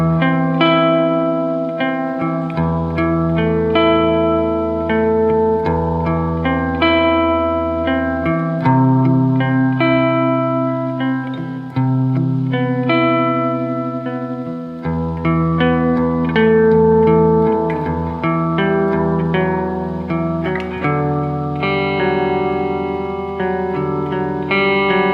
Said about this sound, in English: This is the reverb on its own.